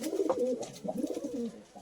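Long-bodied Madras pigeons give a short burst of throaty cooing, two or three low rolling phrases close by and fairly quiet, with no talking.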